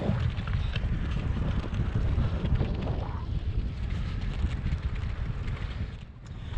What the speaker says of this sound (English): I'm starting to get a bit of a headwind now actually.